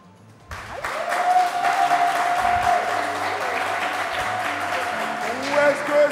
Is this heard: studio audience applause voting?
yes